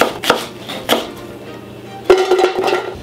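A yellow-handled knife chops an onion into large chunks on a board: a few sharp, close cuts spaced unevenly, with quiet kitchen room tone between them.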